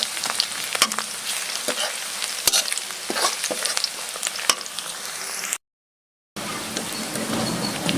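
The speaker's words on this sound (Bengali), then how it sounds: "পেঁয়াজটা ভালো করে ভেজে নেব, অনেক নরম হওয়া পর্যন্ত" Onions fry in hot oil in a pan and are stirred steadily for a Bengali bottle gourd and taki fish dish, a continuous close sizzle with scraping strokes of the spatula. The sound cuts out briefly near the end.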